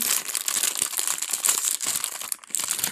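Skull Panda blind box packaging crinkling and crackling continuously as it is torn open, a close, busy rustle of plastic wrapper with no voices.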